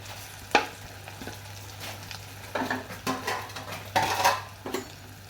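A spoon scrapes and clatters against a pan while potato filling for samosa is stirred, with irregular metallic knocks and soft scraping bursts, close and moderately loud, over a low steady hum.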